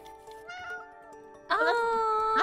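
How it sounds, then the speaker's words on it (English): A cat meows inside the It Takes Two video game, a few short tonal calls followed by a louder, longer meow near the end, heard clearly over quiet game background. "Oh, that's a cat."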